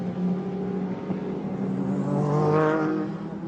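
Racing cars at the 1998 Le Mans race, a close engine note droning on with a rising, swelling pass as a car sweeps by and then fades slightly, no one talking over it.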